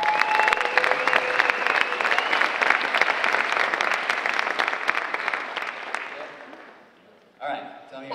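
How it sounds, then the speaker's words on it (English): A college convocation audience applauds loudly and steadily for about seven seconds, the clapping thinning out and fading before a voice speaks at the end. "everybody give her a round of applause."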